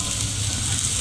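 A rajgira flour and potato paratha fries in ghee on a griddle, giving a steady, even hiss of sizzling fat that stays close and constant for a brief second, with no voices.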